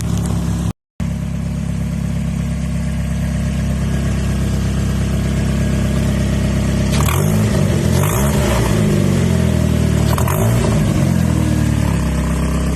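A car engine with a small exhaust leak runs at a steady idle while warming up, then revs up sharply three times in quick bursts before settling back down.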